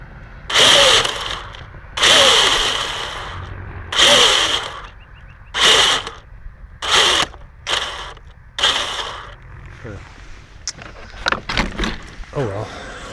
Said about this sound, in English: That wheel not supposed to be spinning.